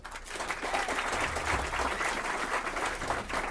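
Audience applause fills a jazz club after the band members are introduced, a dense, steady wash of clapping that holds loud and unbroken throughout with no talk over it.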